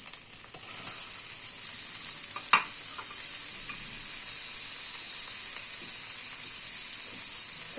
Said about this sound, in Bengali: এবার একটু ভালো করে ভেজে নেব এবার টমেটোটা